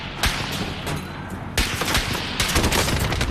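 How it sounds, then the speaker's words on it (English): Enemy cluster strike explosions in a video game hit in three sharp, loud, booming bursts, each followed by crackling debris-like rumble, close and dense with overlapping blasts. "Enemy cluster strike. Take cover."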